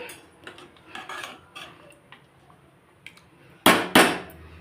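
A spoon scrapes and clinks around a pot of mutton biryani in short strokes, followed by two loud metallic knocks against the rim.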